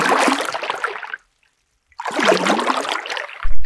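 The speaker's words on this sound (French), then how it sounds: "Paddle." A paddle splashes and swishes through water in two bursts of close sloshing, separated by a short silence.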